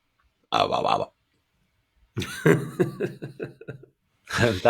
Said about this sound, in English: I'm going to burp.